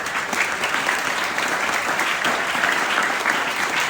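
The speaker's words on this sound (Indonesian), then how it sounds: "Tepuk tangan untuk Radar Banyuwangi." Students at a school Ramadan program in Banyuwangi give a sustained round of applause for the local newspaper Radar Banyuwangi, dense and even throughout.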